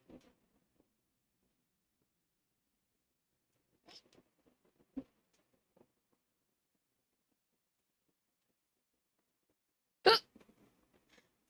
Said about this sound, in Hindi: मेरे को ना कल रात से बहुत हिचकी आ रही है